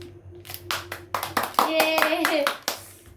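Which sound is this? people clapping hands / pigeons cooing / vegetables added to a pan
people clapping hands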